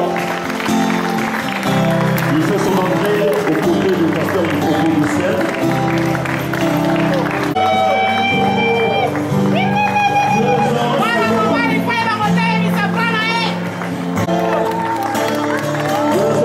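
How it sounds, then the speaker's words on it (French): A studio audience claps and cheers as a guest enters alongside a pastor on a political talk show, with the crowd noise running throughout under an announcer's voice and a band of music. "sous vos applaudissements"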